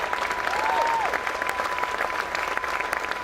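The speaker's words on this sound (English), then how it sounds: "we could give them a round of applause" A crowd at a presidential economic speech breaks into a round of applause, dense steady clapping filling the hall throughout, with a faint tonal whine gliding briefly near the start.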